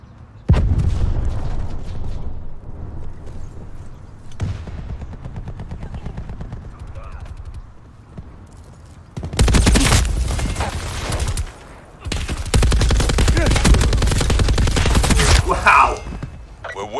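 Light machine gun in Call of Duty Black Ops 4 firing long, loud automatic bursts, with quieter stretches of scattered gunfire and someone talking between and over the volleys.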